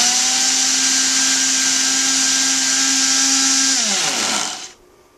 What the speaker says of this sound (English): I put it in my smoothie machine that I got at the junk store